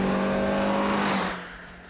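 A car driven hard on a test track, its engine roaring loud and close with strained revving and tyre scrub, then dropping away quieter as it moves off.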